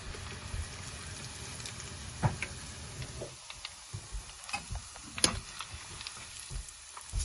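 Crisp crackling and sizzling of rice flakes frying in oil for Bombay mix, with irregular sharp pops over a steady hiss, close up and no talking.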